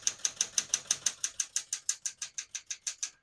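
Typing on a 1973 Smith-Corona Galaxie 12 portable typewriter, about twenty crisp evenly spaced key strikes in a steady rhythm, close up, with no voices.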